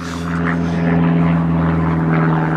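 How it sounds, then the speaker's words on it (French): A steady, droning propeller aircraft engine hums close by, its even tone swelling slightly louder as it goes on. "on va passer l'avion"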